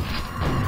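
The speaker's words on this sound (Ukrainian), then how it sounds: "Господи, летять постріли." Shots flying in the video game Quake, heard as a dense, loud mechanical clatter with thudding low-end booms that continue steadily for a moment, close and uninterrupted.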